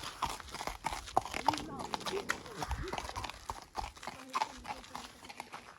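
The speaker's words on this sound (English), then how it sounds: "there's a beautiful horse going by" Hooves clip-clop steadily on pavement as a horse passes nearby, with people talking over the rhythmic clatter.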